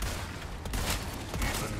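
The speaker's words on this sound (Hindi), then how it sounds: "शॉटगन." Shotgun blasts from the Resident Evil 4 video game: a couple of sharp, booming reports over a dense, noisy game soundscape.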